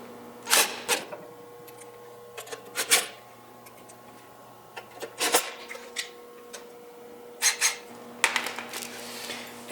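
Small metal clicks and taps come in scattered bursts as screws are put back into a kiln's wiring box, close and fairly quiet, over a steady low electrical hum.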